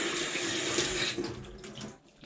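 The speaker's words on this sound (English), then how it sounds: "Make sure we've got some more cold water on it." Cold tap water runs steadily from a faucet onto a hot flattened Lidl wing, a continuous close hissing splash that thins toward the end.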